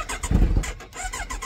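A Kawasaki Z900 motorcycle engine starting, with a brief low cranking rumble that catches and then settles into a near, steady engine note, all within a second or so.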